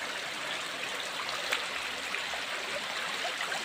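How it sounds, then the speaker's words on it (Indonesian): Water trickles and gurgles steadily through an underground river in the Jombang forest, a constant close splashing wash with no talk. "Tuh, airnya gemericik ya."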